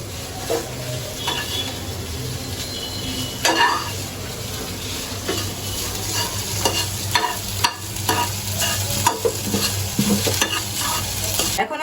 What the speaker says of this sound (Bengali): ভালো করে নাড়াচাড়া করতে হবে